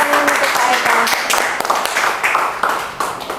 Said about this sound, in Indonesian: Tepuk tangan untuk Pak Eko.